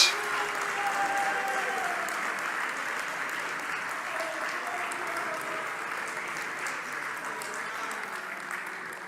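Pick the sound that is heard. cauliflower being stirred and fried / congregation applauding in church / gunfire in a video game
congregation applauding in church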